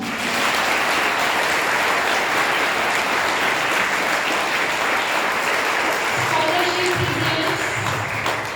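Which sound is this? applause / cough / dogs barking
applause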